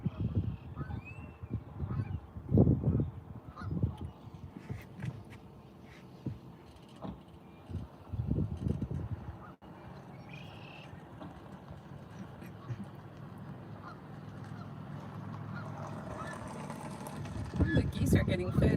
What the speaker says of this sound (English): The geese are getting fed now.